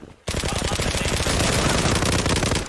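Rapid automatic gunfire in the online shooter Zula, a loud, unbroken burst of closely spaced shots that starts abruptly and continues for over two seconds.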